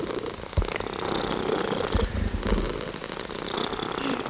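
A cat purrs while lying on a person's lap, a steady close rumble broken by a few brief soft knocks and rustles, with no talking.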